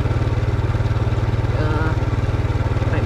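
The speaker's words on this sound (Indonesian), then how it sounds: "Naik motor siang hari ini di Jalan Perbaungan Kota Matang Siantara." Motorcycle riding on Jalan Perbaungan in Pematang Siantar in daytime, its engine putting out a steady loud pulsing rumble close by throughout, with faint street noise above.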